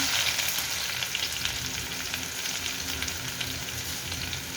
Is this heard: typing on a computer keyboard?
no